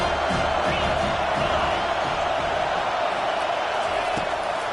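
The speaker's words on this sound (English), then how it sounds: "Here comes his home crowd as the defense tries to get off the field on third down." Home crowd at a football game roars steadily, a loud dense wash of stadium noise during a third-down defensive stand, with a commentator talking over it.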